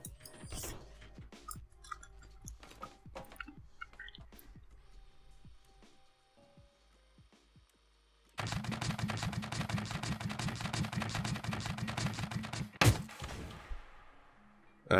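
Mark 20 eight-round auto-cannon firing at a tank in Scrap Mechanic: after scattered clanks, a sustained rapid stream of loud shots hammers for several seconds, then ends in a sharp blast.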